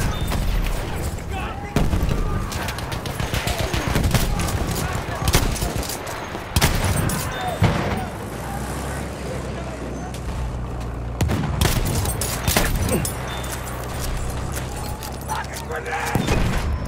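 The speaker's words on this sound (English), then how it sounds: "Machine gun, look alive!" Game gunfire from the video game Battlefield, with dense machine gun bursts and scattered booming shots running continuously and loud throughout, mixed with voices and battle noise.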